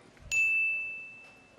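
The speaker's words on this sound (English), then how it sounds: "Ang unang bell po ay 10 second mark." A debate timer bell strikes once as a single clear ding at a televised 2016 Philippine presidential debate, signalling ten seconds left, its bright tone ringing on and slowly fading with no talk over it.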